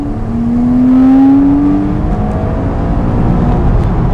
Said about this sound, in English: let me show you the acceleration, what the engine sounds like